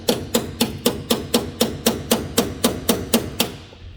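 A center punch struck by a hammer to knock out rivets in a pan while fitting an undermount diving board on a Barletta L Class pontoon boat: fourteen sharp, evenly spaced metallic taps, close and loud, with no talk.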